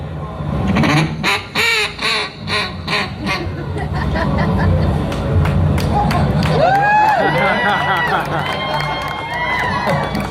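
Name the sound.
duck call imitating a duck's quack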